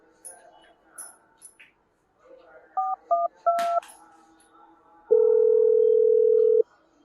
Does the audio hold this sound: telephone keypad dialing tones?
yes